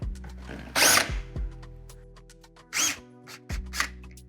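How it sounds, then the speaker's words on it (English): A power drill with a countersink bit opens drilled holes in a boat's gel coat for a trolling motor receptacle, giving three short, close whirring bursts separated by pauses. "Just gonna hit them really quickly with this countersink bit"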